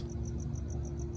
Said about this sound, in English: A little crickets.